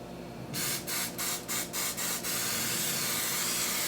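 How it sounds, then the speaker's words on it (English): Six short hissing bursts from an aerosol can of spray butter in quick succession, close and loud, followed by a steady background hiss, while preparing a chicken and rice casserole. "and just spray butter this down"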